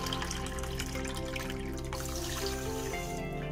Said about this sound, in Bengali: 2 বাটি জল নেব